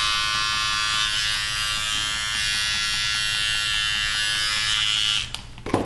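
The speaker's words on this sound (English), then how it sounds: "I'm going to use a number 4 blade on my trimmer" An electric pet trimmer fitted with a number 4 blade buzzes steadily at close range while clipping a Yorkie's coat, then cuts off with a few handling clicks near the end.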